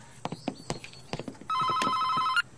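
A telephone bell rings in one sustained burst, clear and fairly close, after a run of soft footsteps and knocks in a room, in a scene from a 1996 film.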